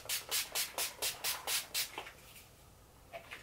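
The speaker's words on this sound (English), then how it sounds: "So you want to just spray across your face a couple times" Makeup setting spray misted across the face in a series of about eight quick, evenly spaced hissing pumps, close and fairly loud, followed by a couple of fainter sprays after a pause.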